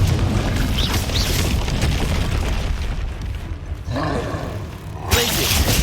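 Confringo blasting spells explode repeatedly in Hogwarts Legacy, loud booming bursts with roaring rumble layered over dense game music and combat effects, with fresh blasts near the start and end.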